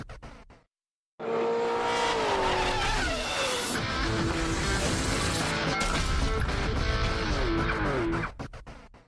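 V8 touring race cars in the BNT V8 series roar along the Hamilton street circuit, engines loud and sustained with rising revs and passing whooshes after a brief gap of silence at the start.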